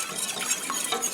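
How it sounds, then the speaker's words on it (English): A spoon stirs sauce in a hot pan, making a brief, close scraping swirl with light metallic clinks over a soft sizzle. "I'm going to go ahead and stir that up."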